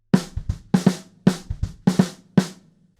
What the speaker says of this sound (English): we're going to really bounce it up and get that swing going and make it sound like this.